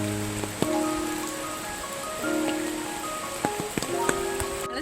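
A river runs below a tea estate near Kalasa in the rainy hills, giving a steady, broadband rushing hiss with no voices. A few soft thuds and knocks sit on top of the flow.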